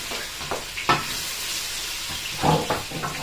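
Onion sautéing in a pan at home, a constant sizzle broken by several scraping stirs and louder bursts as the pieces are moved, close and without speech.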